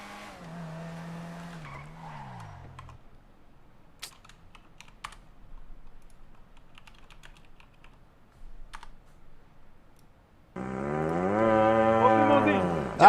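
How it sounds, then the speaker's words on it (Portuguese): An old ox mooing loudly and close, one long low call with a falling pitch at the start, then a quiet gap with faint taps and clicks, then a second long, loud, wavering moo at the end. "Te afasta pra lá, boi velho nojento."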